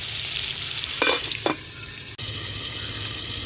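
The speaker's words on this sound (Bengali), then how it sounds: "এইভাবে পটলটা আমি কিছুক্ষণ ভেজে নেব" Pointed gourd (potol) frying in white oil in a kadai, giving a steady close sizzle with a couple of brief stirring scrapes partway through.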